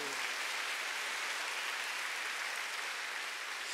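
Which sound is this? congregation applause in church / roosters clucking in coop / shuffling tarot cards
congregation applause in church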